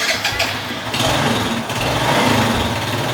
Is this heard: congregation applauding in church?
no